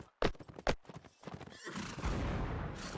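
A horse neighs and whinnies with sharp hoof clops, followed by a rising rumble of battle noise, all sounding like game audio from a Napoleonic Wars line battle.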